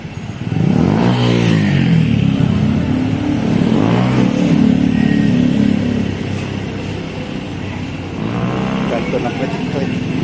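Motorcycles ride past and rev at a busy street corner where riders queue, engines rising and falling in several passing bursts, loud and close, with people talking in the background.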